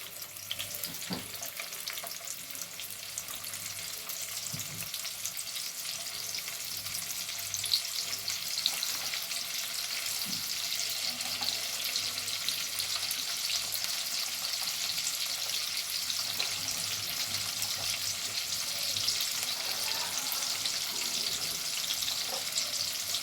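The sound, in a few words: onions frying in oil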